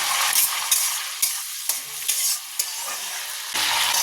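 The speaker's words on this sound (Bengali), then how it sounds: "এই তেলের মধ্যে তরকারিটা করবো তেজপাতা ফোড়ন দিলাম আর দেবো অল্প জিরে" Bay leaves and a little cumin crackle in hot oil left from frying fish fins, a loud bright hiss cut by short clinks and spoon taps, close by with brief quieter gaps, no speech.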